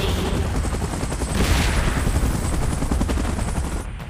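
Helicopter in a PUBG Mobile game event, a loud, steady rotor chop with dense rapid thumping, mixed with booming gunfire-like bursts that swell midway and hold through the end.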